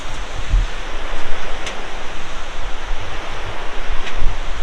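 Broad, steady rushing of a river flowing beneath an iron footbridge on the trail to Chhalal, a continuous loud wash of water noise with some wind buffeting and no voices.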